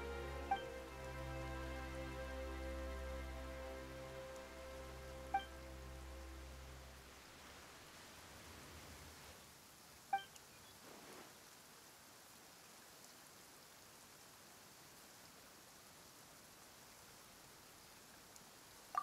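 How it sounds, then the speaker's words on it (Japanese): Steady rain falls in Genshin Impact, a soft, even hiss of drops on surfaces with a few faint taps, following a fading low musical drone, with no voices. "なんで急に雨が？"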